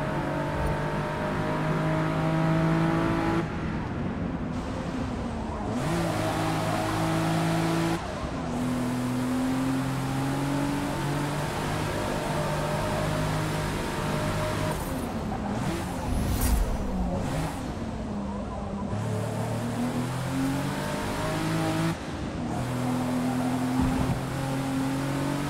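A race car in Forza Motorsport revs and shifts through its gears, with the engine note climbing and falling over and over across a long lap. Tire squeal and skidding come through in places.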